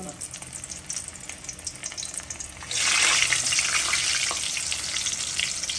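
Quiet background gives way halfway through to a loud, sudden sizzle as stuffed bitter gourd hits hot oil in a wok, then frying hisses steadily to the end.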